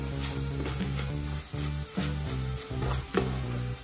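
Grated carrot and sugar are stirred in a pan for carrot laddu, giving a steady close sizzle with repeated rhythmic scraping strokes and no talking.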